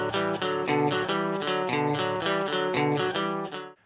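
Two electric guitars play the harmonized interlude riff together, a quick repeating run of picked notes, close and steady for a few seconds before stopping abruptly.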